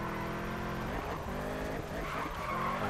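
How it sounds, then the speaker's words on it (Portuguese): A yellow Corvette drifts in Need for Speed 2015, its tires skidding and squealing in a long steady screech over a loud engine drone, continuous throughout and without talk. "Não foi um drift beautiful."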